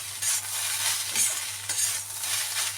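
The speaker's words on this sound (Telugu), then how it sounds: "బాగా కలుపుకోవాలి" A pan of egg fried rice with vinegar and sugar is stirred over steady sizzling, and the spoon scrapes in a few rhythmic strokes close up. No voice can be heard.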